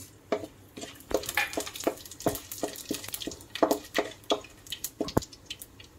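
Whole shahjeera (caraway) seeds and whole spices roasting in hot oil in a pan for a cashew curry, giving close, irregular crackles and small pops with light clinks in a quiet kitchen.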